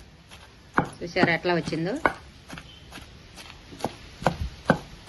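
Raw banana pieces pounded for a Telugu-style yogurt chutney, giving a series of sharp, close thuds at an uneven pace, with a voice speaking over part of it.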